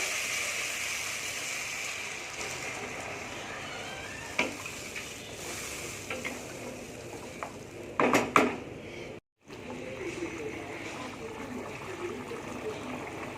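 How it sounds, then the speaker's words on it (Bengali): Water goes into a pan of pointed gourd and potato curry, with a soft trickle and sizzle over low kitchen noise and a few sharp clinks. "এবার দিয়ে দেবো জল"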